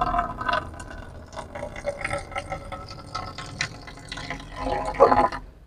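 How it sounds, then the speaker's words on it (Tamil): Water runs from the tap of an RO water purifier, a steady filling hiss close by that swells near the end, with no talking. "ஆன் பண்றோம், தண்ணி வருது."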